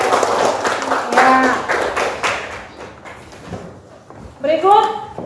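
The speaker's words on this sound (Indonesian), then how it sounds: "mari kita tepuk tangan" Scattered clapping from a classroom of students, uneven claps and taps mixed with voices talking and calling out, fading briefly before a teacher's voice returns.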